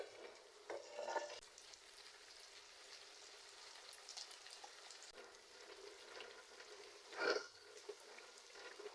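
Chicken pachadi fries in a pan while being stirred, a soft steady sizzle with a few scraping stirs, one sharper scrape late on, fairly quiet and without speech.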